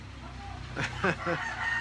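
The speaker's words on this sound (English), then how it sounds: "you can hear the rooster crowing over there" A rooster crows once in the distance, its call rising and falling over a steady low background hum.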